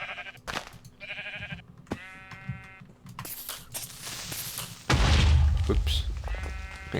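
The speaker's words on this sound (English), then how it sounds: "I think the sheep sound has changed" Sheep bleating in Minecraft, several short harmonic bleats scattered among game noises, with a loud booming burst partway through.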